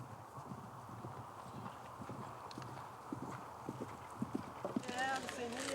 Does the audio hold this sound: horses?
yes